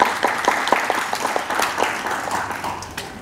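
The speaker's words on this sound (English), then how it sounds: "Clap hands also to welcome you." A conference plenary audience welcomes a speaker with steady, moderately loud clapping, individual claps standing out from a roomy wash of applause throughout.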